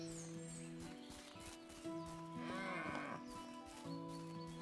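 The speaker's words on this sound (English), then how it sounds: "That sounded like a cow." A cow moos in the medieval farming game Medieval Dynasty, one drawn-out low call amid steady game ambience with other tonal background sounds, no speech.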